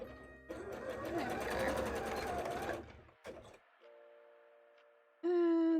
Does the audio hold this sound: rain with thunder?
no